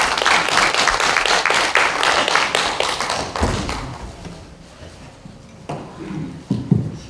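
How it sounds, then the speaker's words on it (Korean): An audience in a parliamentary conference hall claps in a dense burst of applause before a lecture, dying away after a few seconds, leaving scattered thumps and handling noise. "여러분 큰 박수로 부탁드립니다."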